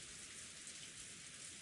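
Steady rain falls outside in the game Umineko no Naku Koro ni, a constant even hiss of drops with no other sounds, faint and unbroken throughout.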